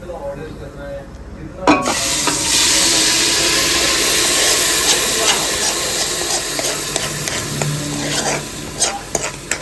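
Red masala hits a hot pan and erupts into a loud, steady sizzle, with spoon scrapes and clinks from stirring, while a voice speaks faintly under it.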